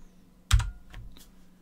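A few keys are struck on a computer keyboard while entering a connection name, one sharp close tap followed by several lighter clicks in a short burst, with no speech.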